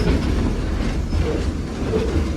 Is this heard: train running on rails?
yes